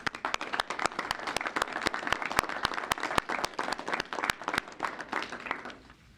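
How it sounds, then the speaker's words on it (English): Audience applause at a railway construction kick-off event, a moderate crowd clapping with distinct individual claps audible, lasting several seconds before fading out. "Please join me in expressing our gratitude by giving them a round of applause."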